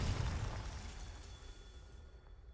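A Confringo blast spell goes off in a Harry Potter video game, a loud burst-like boom at the start that decays into a fading rumble over a couple of seconds.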